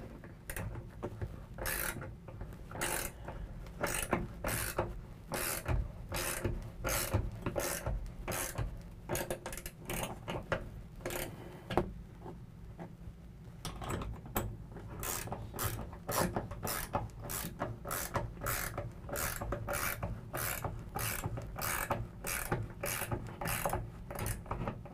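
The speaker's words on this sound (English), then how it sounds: "Now with our cover aligned, we can go back underneath and tighten down our clamps." Ratchet with a 9/16 socket tightening the clamps of a DiamondBack SE tonneau cover on a pickup bed, a long run of rapid, close clicking strokes in steady bursts with no talking.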